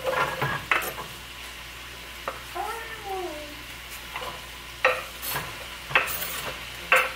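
Chopped garlic, zucchini and sliced celery sizzle softly in a pan while being stirred, with occasional scraping clatters; a cat meows briefly in the middle.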